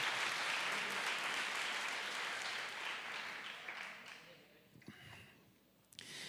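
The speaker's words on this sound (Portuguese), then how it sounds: "Dê um aplauso ao Senhor." A church congregation claps together in a broad, dense wash of applause that fades out over several seconds, loud at first and then trailing into a few scattered claps and room noise.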